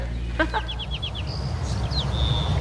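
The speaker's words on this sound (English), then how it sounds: "Birds live in here." Birds nesting inside a stone obelisk give a few short chirps and a quick run of repeated calls, fairly close, over low outdoor background noise.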